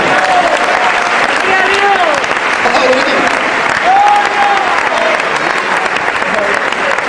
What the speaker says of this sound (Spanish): Un aplauso de alabanza para el Señor.